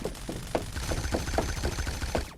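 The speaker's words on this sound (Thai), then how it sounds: "เสียงปืนทางซ้ายครับ" Rapid gunshots in the video game Badlanders pop in a regular rhythm, a string of sharp bursts at moderate distance with no talking.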